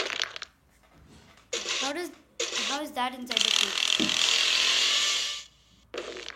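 A drill grinds and digs in the Henry Stickmin video game, a loud mechanical whirring burst that swells and holds for a couple of seconds between bursts of game noise, with a voice speaking briefly.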